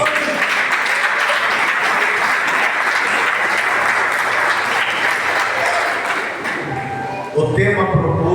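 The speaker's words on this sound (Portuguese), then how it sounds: "Você assenta e ocupa as suas mãos e aplauda o Rei da Glória bem forte." A church congregation applauding loudly for several seconds at an anniversary service, dense steady clapping that fades near the end as a voice begins speaking.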